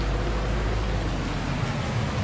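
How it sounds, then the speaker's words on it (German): Rain falls in Landwirtschafts-Simulator 19 as a dense, even hiss of steady noise, continuous and fairly loud, with nothing else standing out. "es regnet heute wie immer"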